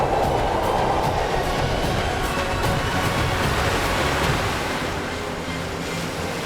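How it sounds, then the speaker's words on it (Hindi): A river's water rushes down as a television drama sound effect, a loud, continuous broadband roar with no speech that eases slightly toward the end. "अब तो यह जल नीचे उतर रहा है, हमें लील जाएगा।"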